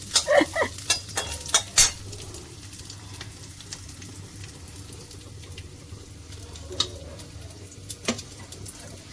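Cashews and raisins fry in a pan for khichuri, a quiet sizzle under several sharp clinks and scrapes of a stirring spoon, busiest at the start and then settling into a low steady hiss.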